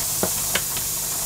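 A pressure canner on a home stove gives a steady loud hiss, with two or three short knocks rising above it.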